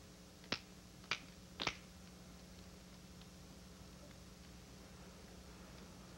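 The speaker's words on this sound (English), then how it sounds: "respond to my snapping my fingers" Three crisp finger snaps come in quick succession, about half a second apart, over a quiet low room hum, as someone tests whether a baby turns toward the sound.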